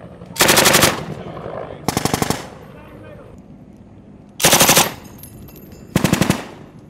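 Military machine guns fire four loud, close bursts during a Marine Corps urban assault exercise, each a rapid string of cracks lasting roughly half a second, separated by quieter gaps with faint background noise.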